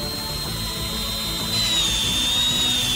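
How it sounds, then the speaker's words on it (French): Steady whine of a drill boring a hole in the side of a pipe close by, a high tone holding throughout and growing a bit louder halfway through, with no voices. "Percez un trou sur le côté avec un tournevis."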